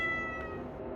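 A cat meows once in the video game Cyclopean, a short, clear, tonal cry standing alone against a quiet background.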